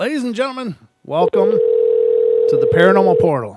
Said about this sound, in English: The sound you're hearing in the background is that of the phone lines not connecting again.